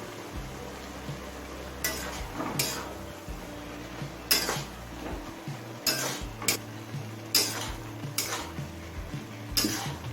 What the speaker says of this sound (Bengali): ঢাকা খুলে লাউটা আরো একবার নাড়াচাড়া করে নিলাম